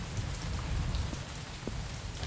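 Rain falls steadily in the video game Mon Bazou, a dense continuous patter on surfaces with a low rumbling undertone, moderately loud and unbroken.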